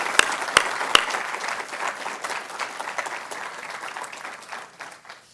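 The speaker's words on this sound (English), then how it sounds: "Let's have another round of applause for these great scholars." Audience applause at a university lecture event opens with a few sharp nearby claps, then settles into a broad wash of many hands that gradually thins and fades away.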